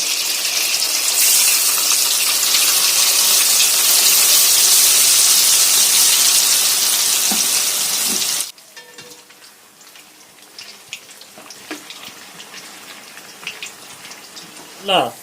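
Idli batter pakoda frying in hot oil in a kadai, a loud, dense bubbling sizzle that cuts off abruptly to a quieter background with faint crackles and scattered clinks, no talking.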